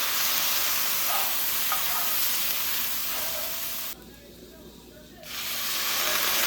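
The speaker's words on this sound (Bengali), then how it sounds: "একদম কম কম জল দিয়ে নেড়ে নেড়ে করছি" Semolina stirred in a pan with a small splash of water gives a steady close hiss and sizzle with faint scraping, briefly dropping to a quieter simmer near the end before the sizzle returns.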